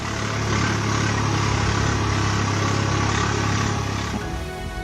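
A tractor in a farm field in Sheopur, Madhya Pradesh drives over and flattens standing crops, its engine a loud, steady droning rumble that holds throughout and eases slightly near the end.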